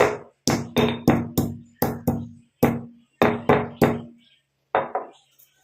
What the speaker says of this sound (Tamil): இதில் இந்த மாதிரி இடிகள் எடுத்துகிட்டு 1 2 தட்டிக்கலாம்.